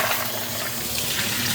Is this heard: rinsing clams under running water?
yes